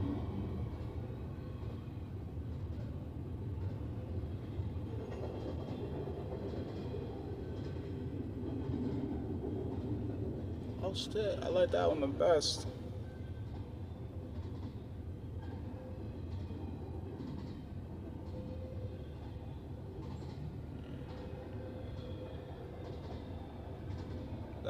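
A train rumbles steadily past at moderate distance, a continuous low roar with a brief louder squealing stretch midway, while someone talks casually over it.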